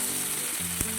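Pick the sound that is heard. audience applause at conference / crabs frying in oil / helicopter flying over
crabs frying in oil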